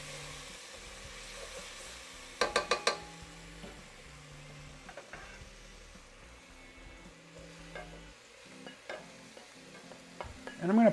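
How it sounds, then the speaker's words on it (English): Beef and onions stir-frying in olive oil in a pan, with steady low sizzling, a quick cluster of utensil scrapes and clinks early on, and scattered stirring knocks throughout. "Stir up our onions. That's looking good. Now let's add our beef back to the recipe."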